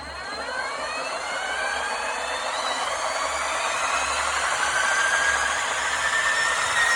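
A Chevy crankshaft is spun up on a DIY balancing rig during a rebuild after flat tappet cam lobe damage. It gives a steady rising whir and whine that holds for several seconds, close and fairly loud, with no talk.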